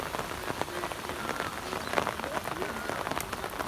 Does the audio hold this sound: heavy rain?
yes